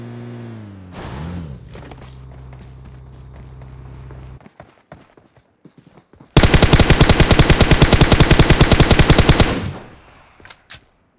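Rapid automatic gunfire from PUBG Mobile, a long sustained burst of loud shots in fast rhythm after softer footsteps and movement, with a few isolated shots trailing off at the end.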